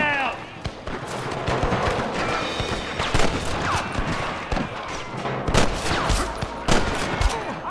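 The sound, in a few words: gunfire in Red Dead Redemption video game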